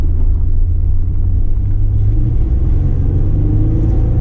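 Low rumble of an LS-swapped Chevrolet Nova pulling away on its first drive, heard from inside the car as a steady, close engine drone with a slight rise, no talk.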